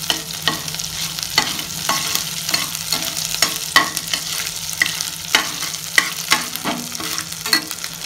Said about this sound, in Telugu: అల్లం వెల్లుల్లి పేస్ట్ అయితే వేగిపోయిందండి